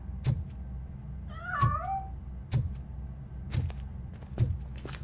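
A single cat meow rises clearly in the RoboCop: Rogue City game, set among soft in-game footsteps and thuds.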